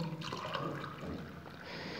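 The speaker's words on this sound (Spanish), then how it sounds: "Le agregamos el café" Hot coffee poured into a glass holding a measure of whisky, a steady liquid pour with a gurgling trickle running continuously and close by for about two seconds, with no talking.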